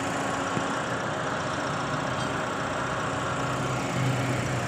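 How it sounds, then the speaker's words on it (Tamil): A Toyota Yaris engine fitted with a CNG kit idles steadily up close, a constant rumbling drone with no other notable sounds. "இன்ஜின் ஓடிட்டுருக்கு"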